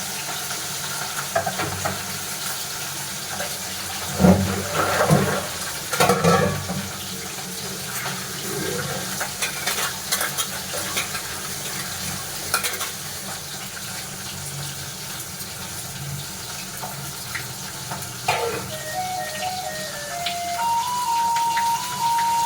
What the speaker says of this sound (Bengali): দুটো দুটো করেই ভাজি,